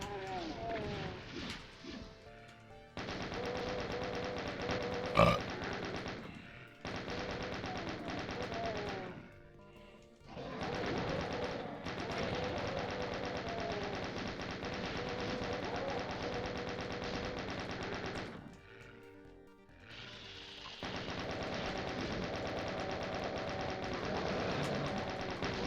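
Rapid weapon fire from the Doom mod Knee Deep in ZDoom blasts in long sustained bursts broken by short pauses, loud and dense, with one sharp spike standing out near the start.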